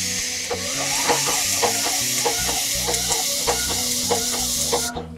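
An airless putty spray machine gun spraying putty onto plywood sheets, a loud continuous hiss broken by rhythmic pulsing bursts as the gun is moved, cutting off sharply at the end.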